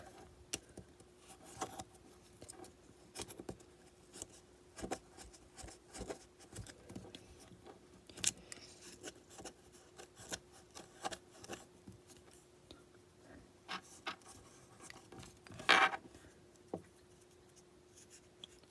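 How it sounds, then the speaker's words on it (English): A fiberglass pencil scrubs the wheels of a Life-Like Union Pacific F40 model locomotive, giving off faint, irregular scratchy strokes and light ticks close up, with a brief sharper scrape near the end. "I'll use my fiberglass pencil to clean these up."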